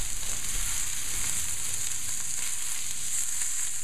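Meat and sausage sizzling in a pan for steak forestiere, a dense continuous hiss and crackle close by, steady and moderately loud throughout, with no voices.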